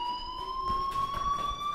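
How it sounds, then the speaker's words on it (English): In the video game Life is Strange, a fire alarm sounds with a steady, piercing electronic tone that rises slightly and holds continuously, moderately loud, with faint thuds underneath and no talking. "Hey, do you hear that fire alarm? That means you should be outside."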